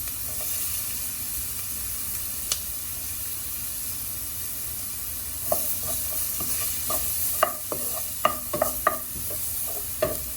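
Onion sizzling in a hot pan for spicy duck adobo, with a steady frying hiss under intermittent stirring scrapes and clicks of a utensil that grow busier toward the end; no talking.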